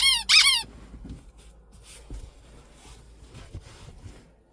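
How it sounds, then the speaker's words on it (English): A sharp, high-pitched squeak from inside a Dacia Duster car sounds once, loud and brief at the start, followed by quiet cabin rumble and soft knocks. "there's a squeak in the car,"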